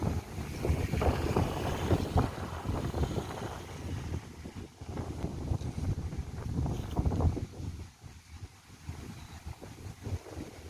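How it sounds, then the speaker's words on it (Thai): Wind gusts buffet the microphone on the bank of the Mekong River in Champasak, Laos, a steady, loud, low roar and rumble that swells and eases for about ten seconds. "ทั้งหนาว ทั้งลมพี่น้องจะได้ยินเสียงลมเนาะค่ะ"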